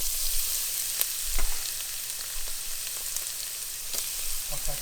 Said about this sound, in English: The garlic is getting brown.